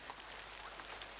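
Faint, steady patter of rain falling in the 1983 animated children's series Moschops, soft and even with no other sounds.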